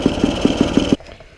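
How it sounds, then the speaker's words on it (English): A Yamaha PW50 motorcycle engine idles in a fast, even putter of regular pulses, loud and close, then cuts off abruptly, leaving near silence. "At least it's idling at a normal speed now."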